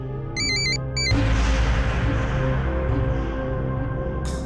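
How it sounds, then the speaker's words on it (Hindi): A mobile phone ringtone plays a brief, bright repeating melody for under a second, then gets swamped by loud, steady broadband noise that carries through the rest of the clip. "अखिल, शब्द फोन कर रहा ह"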